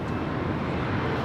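A Porter Airlines Embraer E195 jet taking off at Los Angeles airport makes a steady, broad engine roar that is loud and sustained throughout the short moment.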